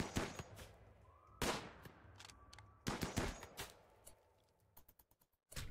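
Colonists in RimWorld open fire: short bursts of sharp, crackling gunshots come in clusters with quiet gaps between them, and a final rapid volley closes the sequence.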